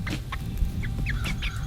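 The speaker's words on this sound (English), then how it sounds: "My sweet little chicken." Young chickens near a walk-in coop give soft, scattered clucks and chirps, faint over a low rumbling background.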